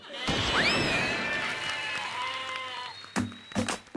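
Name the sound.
person imitating a goat bleating to hum a song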